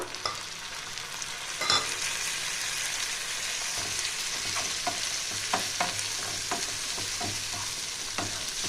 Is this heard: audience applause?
no